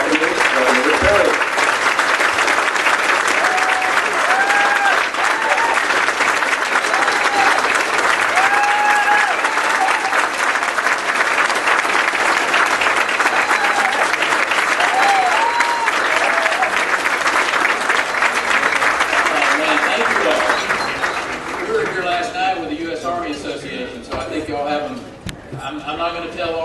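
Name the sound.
audience cheering and applauding a speaker's welcome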